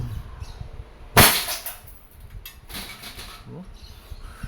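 A Crosman SNR 357 dual-ammo airgun fires a single sharp, close crack, followed by a softer rustle and faint background noise.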